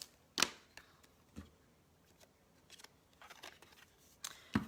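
Scissors cutting in a quiet room, with several sharp snips scattered unevenly among softer rustles, close and fairly faint.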